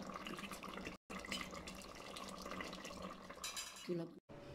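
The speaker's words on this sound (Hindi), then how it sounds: "अब हम इनको करते हैं डिश आउट।" Potato chicken curry is served out of a handi pot with metal utensils, giving scraping and clinking over a wet, watery background, with a brief voice near the end.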